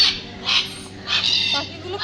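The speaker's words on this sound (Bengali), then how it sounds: "এই পাখিটার নাম হচ্ছে লরি।" Bird calls from a red lory parrot in a zoo aviary at an eco park: a few short, bright squawks come in bursts at moderate distance, with faint background chatter and ambience.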